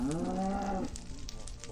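A single drawn-out cow moo from the video game Minecraft, clear and close, fading after about a second into a low background hum.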